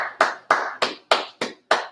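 Seven sharp hand claps ring out alone in a steady, even rhythm, close and loud.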